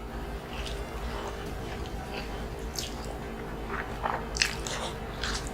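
Crispy lechon kawali in coconut sauce is bitten and chewed up close, giving scattered crunchy bites over quiet background noise.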